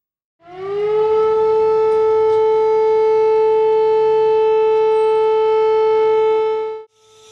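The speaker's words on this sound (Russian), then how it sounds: "Об экстренной ситуации возвестил сигнал сирены." A civil defense siren sounding a warning over a chlorine leak, one long loud steady wail that swells in at the start, holds a single sustained tone for about six seconds, then cuts off abruptly.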